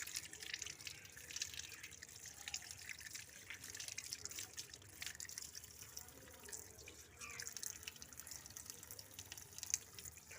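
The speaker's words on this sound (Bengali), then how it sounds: "চলো মাছগুলো ভালো করে ধুয়ে নিই" Tap water runs steadily and softly into a sink while small tangra fish are washed, a continuous faint splashing with small irregular splashes throughout and no voices.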